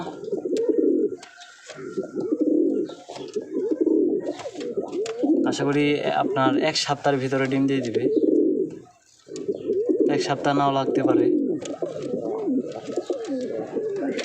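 Racing pigeons coo repeatedly close by in a loft, their rolling calls running steadily beneath someone speaking at length.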